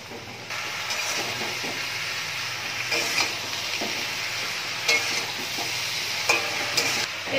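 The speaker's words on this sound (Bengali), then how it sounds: "এবার সব ভালোভাবে মিশিয়ে নেব" Fish head and greens curry with Malabar spinach leaves in a pan, cooking with a steady close sizzle while a spoon stirs and scrapes in occasional louder strokes, no voices.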